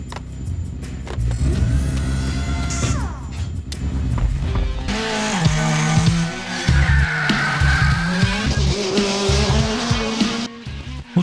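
A speeding taxi in a French film races hard, its engine roaring steadily with rising whines and tire squeals over dramatic music and sound effects, loud and continuous.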